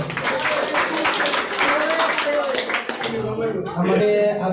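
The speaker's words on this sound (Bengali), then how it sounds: "যে কাজটা হবে সবাই হাততালি দাও" An audience claps at a stage event, a dense patter of hands that fills the first few seconds and then fades as a voice continues speaking over it.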